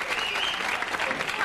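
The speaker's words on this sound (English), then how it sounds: "There's probably more men out there that are clapping for the mini skirt" TV studio audience applauding on a late-1980s talk show, a dense, steady burst of clapping, fairly loud and close, filling the short stretch without talk.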